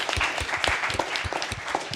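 A classroom audience gives a short round of applause for students before final project presentations, a steady spatter of clapping from a modest group, close and moderately loud throughout.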